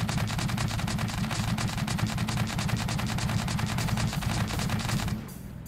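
Rapid laser weapon fire in the sandbox game Scrap Mechanic, a loud, continuous stream of shots pulsing evenly for about five seconds before stopping abruptly.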